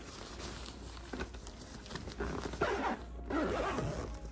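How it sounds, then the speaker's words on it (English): A zipper closes the fabric cover of a Nuna Tavo stroller, with a few short rasping pulls that build into a longer, louder zip near the end, close to the microphone. "And zip it up"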